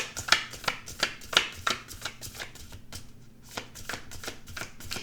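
Tarot cards being shuffled and drawn, a run of crisp riffling snaps and flicks in uneven rhythm, close and moderately loud, with no talking.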